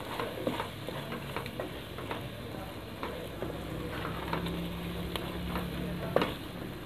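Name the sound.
minced meat (keema) frying with spices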